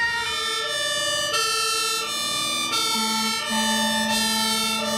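An American fire truck's siren wails in rising and falling sweeps, loud and sustained, while low horn blasts sound beneath it with an engine rumbling under the whole passage.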